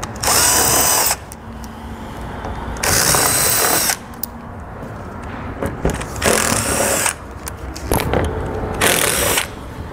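Power tool fitted with a 10 mm socket removing nuts on a 2020 Chrysler Pacifica during trailer hitch installation: loud whirring bursts of about a second alternate with quieter ratcheting and rattling stretches.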